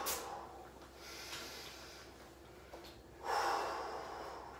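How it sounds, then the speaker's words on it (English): Deep breathing during a home workout: a few loud, close inhales and exhales, including a sharp snort-like breath at the start and a stronger exhale near the end, with no talking. "Breathing deep. Trying to stop myself from shallow breathing."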